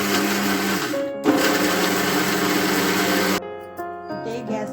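Kitchen mixer grinding cashew pieces fine in a steady, loud whining hum that stops abruptly, followed by quieter kitchen sounds.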